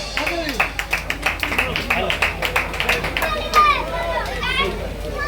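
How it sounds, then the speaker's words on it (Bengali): Clapping from an audience at a live musical night of 90s Hindi songs, rhythmic hand claps mixed with crowd chatter and children's voices, fairly close and lively throughout. "তো সবাই মিলে একটুখানি জোর করে হাততালি।"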